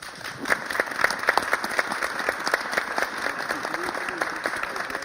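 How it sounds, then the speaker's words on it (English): An audience at a roundtable panel on Iran's tech entrepreneurship in Berlin breaks into applause, lively clapping with distinct individual claps standing out, with murmuring voices mixed in underneath. "I think he deserves a round of applause"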